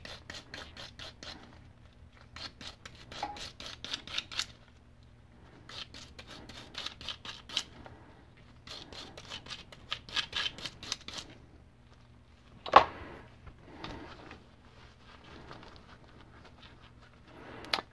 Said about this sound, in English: We'll also take a small wire brush, load it with some alcohol as well, and